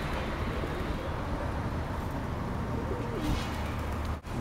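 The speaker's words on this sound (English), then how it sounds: "Birds. Don't stand right under them." Pigeons cooing under a bridge along a river in Belgium, a steady low murmur of overlapping coos close by over continuous broadband outdoor noise, with no voices.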